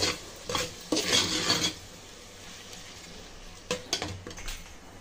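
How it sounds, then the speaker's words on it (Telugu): Chopped tomatoes for chicken biryani are stirred in a pan. A few close scraping sweeps of a metal utensil play over a light cooking hiss, then brief clinks follow a quieter pause. "ఇది కూడా బాగా కలుపుకొని టమాటాలని మగ్గేంత వరకు కుక్ చేసుకోవాలండి"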